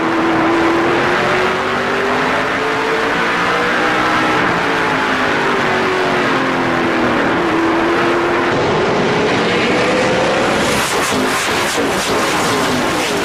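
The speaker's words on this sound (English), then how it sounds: "Listen to all that NASCAR horsepower here on the East Coast, Dave." NASCAR Truck Series race trucks roar continuously at high revs during the 2009 Komatsu 300, pitch rising and falling as they sweep past, loud and unbroken with no voices.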